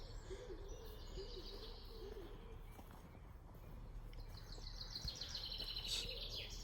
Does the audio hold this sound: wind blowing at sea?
no